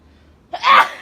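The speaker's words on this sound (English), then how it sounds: "I'm about to sneeze again." A single sneeze bursts out sharply after a moment of near silence, close and fairly loud, with a breathy rush that trails off.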